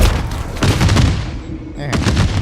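Gunfire from shooting the ground in MW3 Zombies, a dense burst of loud overlapping shots with booming low impacts, a brief lull, then more shots, with some voice mixed in.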